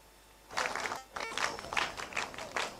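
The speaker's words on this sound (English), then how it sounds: "A round of applause to Kasaprekon." An audience at a senior high school speech day gives a sponsor a round of applause, with clapping starting after a quiet moment, briefly dipping, then continuing in uneven bursts.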